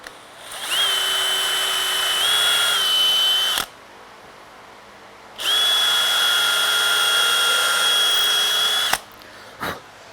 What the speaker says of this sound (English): I'm gonna get this set up and clamp it, and I'll drill these up.